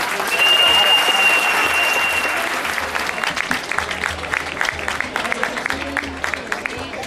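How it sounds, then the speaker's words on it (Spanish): An audience applauds loudly at a community celebration, with dense clapping that gradually thins into scattered claps, and faint voices underneath. "Un aplauso para Echas"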